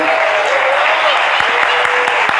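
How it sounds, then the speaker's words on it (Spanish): A church congregation claps with enthusiasm in a dense, loud, continuous burst that fills the room, while a voice carries on over the clapping. "Si le va a aplaudir, apláudale con todo el corazón."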